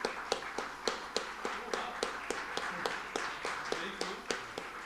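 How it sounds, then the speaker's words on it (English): Steady rhythmic clapping from a lecture audience at a Bengal Chamber leadership event, a regular beat of distinct claps at a moderate distance, fairly soft and even. "Can we have a big round of applause, please, ladies and gentlemen?"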